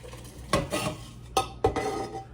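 Metal pots and utensils clank a few times as cooked pinto beans with ham are moved from one pot to another, with scattered knocks and scraping close by.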